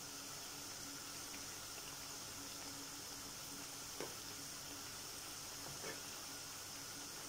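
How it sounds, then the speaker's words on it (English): Plantain slices frying in hot oil while being stirred over a stove fire, a steady soft sizzle running throughout with a couple of faint clinks, and a voice faintly in the background. "to fry your plantain is when you keep stirring it on fire"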